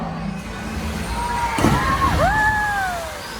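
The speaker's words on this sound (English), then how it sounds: "when a killer whale leaps out of the water and comes crashing back down" A broadband splash bursts up midway as a killer whale breaches and crashes back into a SeaWorld San Antonio pool, over a noisy crowd-like ambience, with rising and falling tonal whistles sweeping around it.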